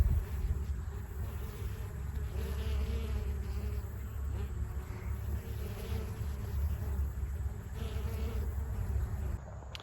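Honey bees buzzing steadily outdoors as they gather honey and stock their stores near summer's end, a continuous layered drone from many insects close by with light wind and no talking.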